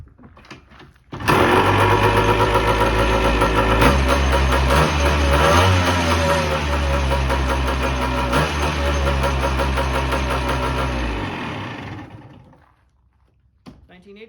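A 1980 Yamaha IT 175 dirt bike engine starts and runs loud with a buzzy, rapid two-stroke rattle, revving a few times before cutting off.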